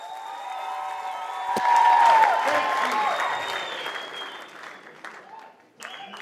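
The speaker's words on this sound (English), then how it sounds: "give yourself a round of applause" Audience applause and cheering at a sold-out live comedy show in Zimbabwe, a loud sustained wash of clapping that swells then fades, with someone speaking briefly over it.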